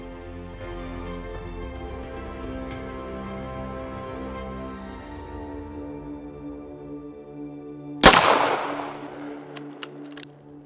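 A single gunshot during a bear hunt cracks out loud and sharp over sustained background music, followed by a quick decaying tail and a few faint clicks.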